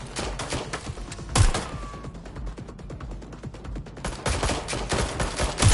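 Enemy gunfire in Watch Dogs: Legion, rapid close shots in dense rattling bursts with a short lull in the middle before the firing picks up again, loud and with no talk.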